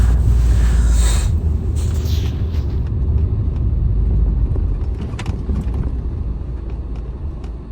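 A cheap, freshly restored classic Mini rumbles along a road during a test drive, its low engine and road drone steady and close, with wind buffeting and occasional rattles over it.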